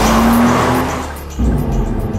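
A sports car drives fast close by, its engine roaring steadily as the tires squeal, then the sound dips briefly before surging again.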